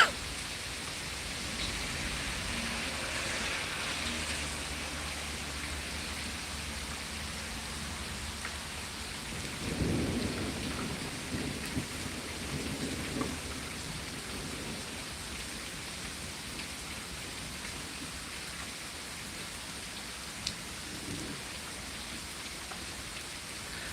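Steady rain patters on surfaces during a thunderstorm, with a low rumble of thunder swelling partway through and fading, all at moderate volume with no voices.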